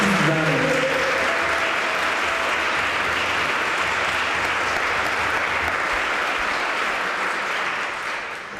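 An audience at a gathering breaks into sustained applause, a dense even wash of clapping with a few voices near the start, gradually tapering off toward the end.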